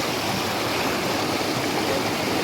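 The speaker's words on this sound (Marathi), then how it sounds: "ह्या ठिकाणी इथं ह्या धबधबा मोठा." A large waterfall on a Konkan village hillside near Chiplun, heard as a steady, dense rushing roar of falling water without pause, loud and close.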